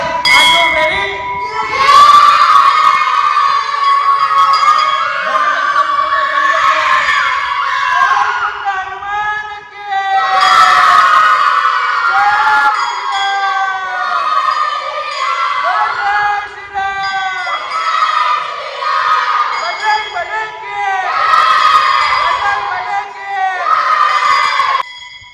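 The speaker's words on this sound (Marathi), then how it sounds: "बघितला असेल कसा जल्लोष आहे" Festive crowd at a Hanuman Jayanti celebration by a village Hanuman temple in Jambhivali Pada, with cheering and children shouting in a dense, continuous din, occasional metallic clinks and whoops rising above it throughout.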